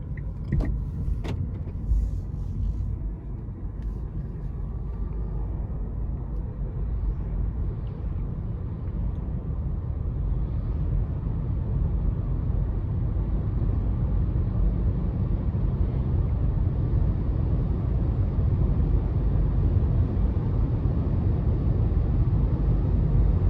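A 2015 Nissan Leaf SV electric car accelerating in eco mode, heard from inside as a steady low road and tire rumble that swells gradually, with a faint motor whine and no engine note.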